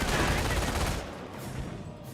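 Mortar fire in the video game Company of Heroes: a dense, loud burst of firing and explosion noise that trails off into quieter rumbling after about a second.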